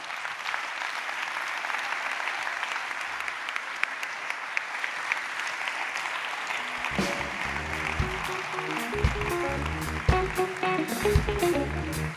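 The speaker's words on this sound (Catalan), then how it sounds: "Un aplaudiment, sisplau." An audience at a 20th-anniversary Festibity awards event applauds as presidents come on stage, steady dense clapping throughout that grows louder and sharper toward the end, with no speech over it.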